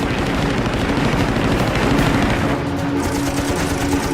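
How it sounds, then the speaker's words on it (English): Rear gunners of Japanese Val dive bombers fire machine guns up at an Allied Wildcat fighter above a shipping convoy near Guadalcanal, a loud, dense, continuous rattle of gunfire with engine roar throughout. "The Val's rear gunners fire up at Sweat's Wildcat."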